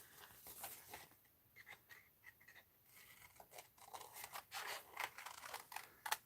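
Scissors snip through paper for an art journal, a run of short crisp cuts in irregular bursts, close up and fairly quiet, with no talking.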